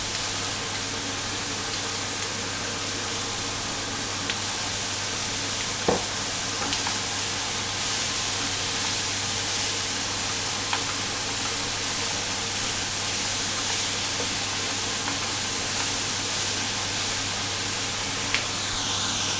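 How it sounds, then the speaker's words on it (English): Carrots and onions fry in a pan with lamb juices for an Irish stew, a steady, even sizzle broken by a few soft scrapes and clicks of stirring. "Just stir it around until they go, until the onions go translucent."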